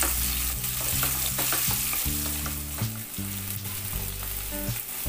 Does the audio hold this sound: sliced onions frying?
yes